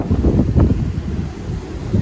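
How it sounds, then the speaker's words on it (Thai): Wind keeps blowing outside a house once the rain has stopped, a loud, continuous rushing roar with gusty microphone buffeting and no voices. "หยุดแล้วค่ะ ฝนหยุดแล้วตอนนี้เป็นลม"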